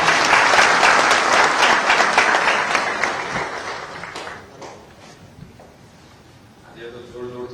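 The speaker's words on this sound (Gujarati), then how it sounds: "આજે તો જોર જોરથી તાળીઓ પાડો છો." An audience of state tax inspectors applauds the Chief Minister at a Gujarat government event, loud dense clapping that fills the first four seconds, then fades into quieter scattered claps and room noise.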